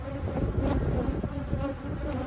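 Honeybees buzz around blooming mesquite, a steady close drone of many wings with slight swells and no voices.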